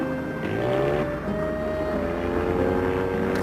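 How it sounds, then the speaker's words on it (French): A steady mechanical drone with tonal engine harmonics, like a propeller airplane, loud and continuous without pause. "Tout ce que j'entends, c'est un avion qui va s'écraser."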